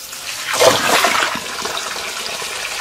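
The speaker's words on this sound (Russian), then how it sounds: "Теперь заливаем подкормку." Water mixed with liquid fertilizer is poured onto grapevine roots, giving a fairly loud gushing, splashing rush that swells early and then settles into a steady trickling flow.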